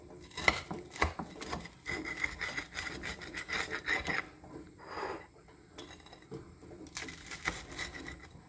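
A knife saws through crunchy mint toast with close, dry rasping and crackling strokes that come in several bursts separated by short quiet pauses.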